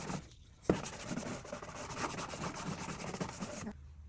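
Scrubbing wooden furniture to strip its old finish: a close, continuous abrasive rubbing with rhythmic back-and-forth strokes lasting about three seconds, starting with a sharp contact and ending abruptly.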